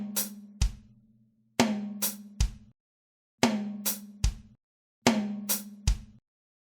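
Drum kit played in a linear pattern of a first tom, hi-hat and kick, heard as three repeating groupings of sharp, close hits with tom ring and short gaps between phrases.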